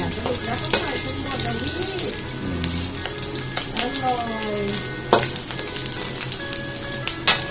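Pork belly stir-fries in hot oil in a pan, a steady bright sizzle and crackle with occasional scrapes of the spatula, while someone talks over the cooking throughout.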